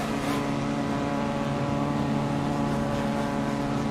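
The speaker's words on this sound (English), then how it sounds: "Hear the hum of all the cars behind me." Touring cars idle together on the starting grid in the Assetto Corsa racing game, a steady low engine hum and drone, continuous and even with no voices.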